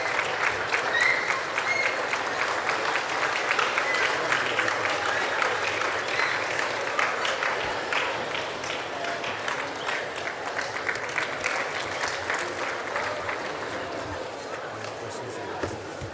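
A lecture hall audience at a memorial lecture on superintelligence applauds the speaker in a sustained, steady roar of clapping that slowly fades over about sixteen seconds, with faint voices mixed in.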